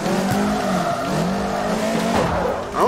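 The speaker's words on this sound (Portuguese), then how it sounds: "Lá vai nós no drift de novo" A BMW drifts in CarX Drift Racing, its engine droning while the tires squeal in long, loud, wavering tones that rise and bend through the slide.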